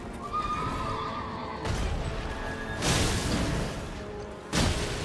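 A horse in the video game Elden Ring whinnies loudly amid hoof clatter and bursts of combat whooshes and crashes, the neighs rising over a busy game soundscape without speech.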